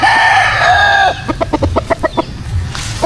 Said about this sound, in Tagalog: Kadalasan mga white kelso na lang yung natitira dito sa ating munting manukan.